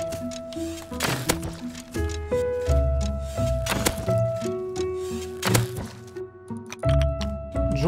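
A tree is chopped in the video game Rust with repeated hollow thunks of a tool striking wood at an uneven pace, set over layered game music with sustained tones.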